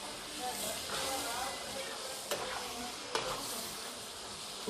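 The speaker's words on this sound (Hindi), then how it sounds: "टमाटर गलने तक हमें चम्मच हिलाते रहना है।" Chicken karahi with tomatoes sizzles in a pan in a steady, faint hiss, with a couple of light clicks as a spoon stirs through it.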